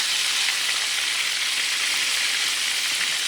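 Southern-style fried chicken pieces frying in oil after being turned, giving a dense, steady hiss like heavy rain, loud and unbroken with no voices.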